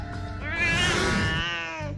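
A domestic cat gives one long, drawn-out meow, loud and close, rising and then fading over about a second and a half, with no talking.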